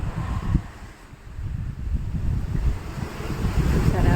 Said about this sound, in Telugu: గాలి సౌండ్ వినపడుతుందా మీకు?